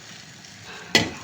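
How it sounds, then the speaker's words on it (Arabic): White rice drops into hot oil in a pan, setting off a sudden loud sizzle after a faint, quiet stretch. The sizzle then settles into steady frying close by, with no voices. "انا هنا بقى هعمل الرز الابيض، حطيت هنا زيت وهنزل بالرز"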